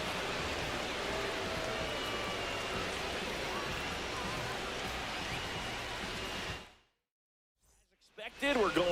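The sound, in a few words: heavy rain during a rain delay in MLB The Show 26 video game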